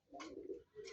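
Pigeons at a newly built pigeon house give a soft, low, rolling coo, faint and close, with a brief second coo following the first.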